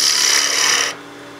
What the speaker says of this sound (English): We'll use the spindle gouge, that'll give us a really good clean cut